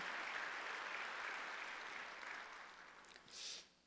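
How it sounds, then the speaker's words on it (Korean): A church congregation at a Sunday worship service claps together, a dense, even patter of applause that gradually fades over a few seconds. "박수로 하나 둘 셋요"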